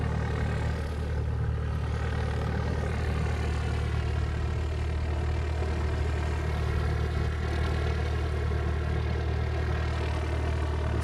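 A parked airliner waits at a Hawaii airport before departure, its engine giving a constant loud, steady whine and drone with low tonal hum that never changes over the whole stretch, heard alone.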